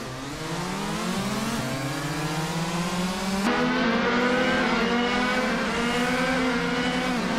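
Racing car engines in a video game race, a steady, loud whine climbing in pitch as the cars accelerate, with a sharp gear change partway through and no voices.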